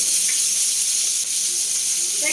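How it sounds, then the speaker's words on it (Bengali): Long beans frying in a pan at home, giving a steady, close sizzling hiss throughout with faint bubbling and no talking. "আমি আলাদা আলাদা ভাজছি যাতে সবগুলো সুন্দর ভাজা হয়"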